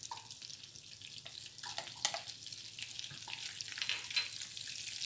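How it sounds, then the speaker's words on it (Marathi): Ginger frying in butter in a home kitchen pan for restaurant-style matar paneer, a steady close sizzle with brief stirring scrapes and a faint splash of water, no voices. "एक सेकंदभर मी परतून घेणारे आलं आणि लसूण"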